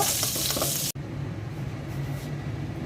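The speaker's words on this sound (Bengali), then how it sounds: "বেশ একটু কড়া করে ভেজে নিচ্ছি, ভর্তা করব" Fish frying crisp in hot oil, a loud bright sizzle that cuts off abruptly, then gives way to a quieter steady background hiss and faint stirring, with no talk.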